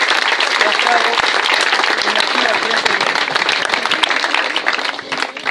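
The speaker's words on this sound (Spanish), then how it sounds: "Un aplauso para Javier" An audience at a Gijón athletics club gathering applauds loudly and steadily for a departing member named Javier, with dense sustained clapping and a brief voice cutting through near the end.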